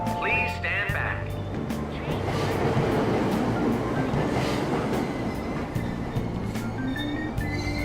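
A train departs a subway station in the video game Persona 5 Royal, rumbling and clattering steadily with brief wheel squeals and electronic chimes, under a platform announcement.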